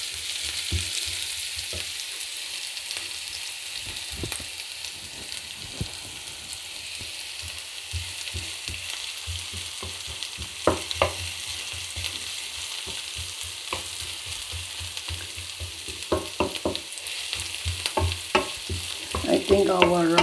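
Onion and garlic sizzle steadily in a pan of cooking oil during a vegetable stir-fry, with scattered scrapes and clacks of stirring throughout and a few louder stirs near the end.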